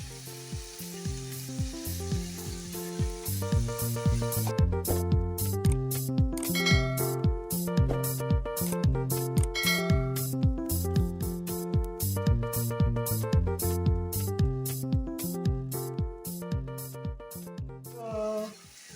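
Matooke and beef stew cook in a pot, giving a steady bubbling sizzle with repeated clinks and stirring sounds throughout, close and continuous with no talking.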